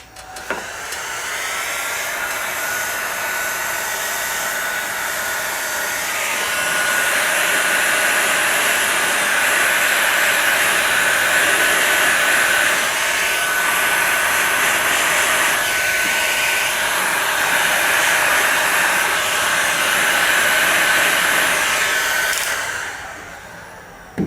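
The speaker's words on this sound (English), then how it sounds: "And then I use my heat gun." A heat gun blows hot air in a steady, loud broadband whoosh with a faint tonal whine, running continuously for about twenty seconds before cutting off, while wiring a Peco three-way model railway turnout.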